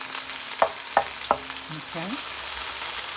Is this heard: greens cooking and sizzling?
yes